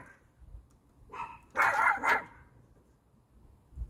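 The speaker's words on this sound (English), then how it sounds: "my neighbor's dogs are like the worst" Neighbor's dogs barking outdoors near a home garden, a few short muffled barks and yips grouped together mid-clip, moderately distant against quiet background.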